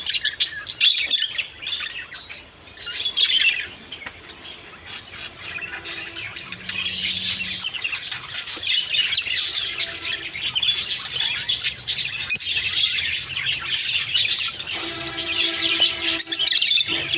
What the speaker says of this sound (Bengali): লাভ বার্ড পাখির নতুন কালেকশন অনেক সুন্দর কালারফুল লাভ বার্ড পাখিগুলো পেয়ে যাবেন